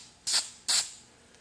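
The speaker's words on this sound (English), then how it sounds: "I just do light sprays, and it's going to take more than one coat" A spray can lets out two short, light hisses about half a second apart while applying a stipple texture coating, each burst crisp and close.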